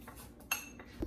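A metal spoon clinks and scrapes against a dish while mixing blackening seasoning, a few faint, brief taps and scrapes close by.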